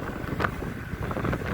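Steady wind buffeting the microphone while riding an EMX Xtreme 60V dual motor electric scooter on a road, a continuous low rumbling roar with gusty swells and no talk.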